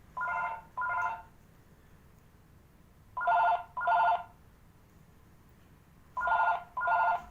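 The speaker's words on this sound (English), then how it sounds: "Can you take that phone call?" A telephone rings in a double-ring pattern, repeating three times with quiet pauses between bursts, clear and moderately near with no talking.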